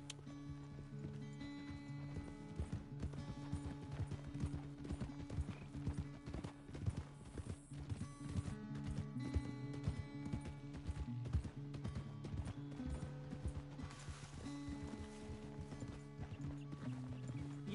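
In the video game Red Dead Redemption 2, horse hooves beat in a steady, rhythmic clip-clop throughout, fairly close, layered with background music and occasional faint speech.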